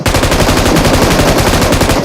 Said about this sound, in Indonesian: Baru dengar suara tembakan lebih kecil.